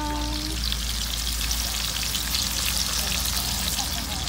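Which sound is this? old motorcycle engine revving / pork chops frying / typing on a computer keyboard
pork chops frying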